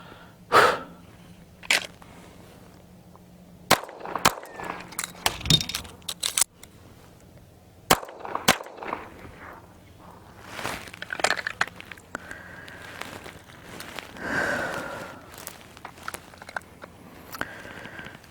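Pistol shots fired at target practice, drawn from a holster in pairs with a magazine change between; sharp isolated cracks spaced irregularly across the stretch, moderately close, with quieter handling noises between.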